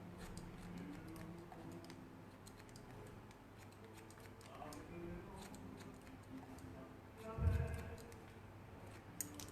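Scissors slowly cutting a man's hair in a simple men's haircut, faint crisp snips ticking at intervals over a low room hum, with a louder handling bump near the end.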